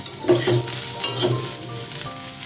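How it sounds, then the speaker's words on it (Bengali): Potatoes fry with poppy seeds over low flame, sizzling steadily in a pan while a spoon stirs and scrapes, with soft clinks over the bubbling hiss. "পোস্ত দেওয়ার পর লো ফ্লেমে আলুর সাথে পোস্তটাকে ভালো করে ভেজে নিলেই"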